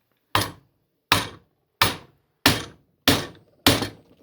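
A chisel tapped with a mallet into wood while making a chair, six sharp, evenly spaced knocks with short decays, close and clear in a quiet room.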